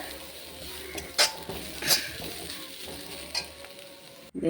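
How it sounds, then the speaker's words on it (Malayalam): Ingredients for a Kerala theeyal curry frying in a pan, a soft steady sizzle with a few sharper stirring scrapes, fairly quiet and close, no voices. "നമുക്കത് വറുത്ത് പകുതി ഇതായിട്ട് വന്നിട്ടുണ്ട് കേട്ടോ, പകുതി മൂത്തിട്ടുണ്ട്"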